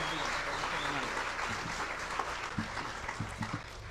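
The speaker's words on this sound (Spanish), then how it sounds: "So vamos a dar un aplauso, pero bien fuerte" Church congregation applauding a visiting preacher, a dense close clapping that holds steady for a few seconds under a faint voice.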